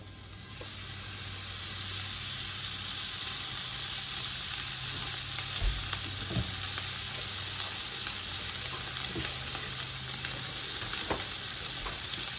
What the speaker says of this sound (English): So let's start making some bacon, shall we?